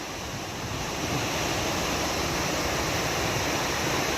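Tat Sali waterfall near Xepon in Savannakhet, a constant loud roar of rushing water with a broad, steady wash and no break.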